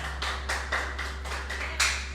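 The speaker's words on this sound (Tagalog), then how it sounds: "Kung nakasabot ka, mo palakpak ka sa Ginoo." Congregation clapping during a church worship service, a fairly steady run of hand claps at moderate distance over a low background hum, with no talk.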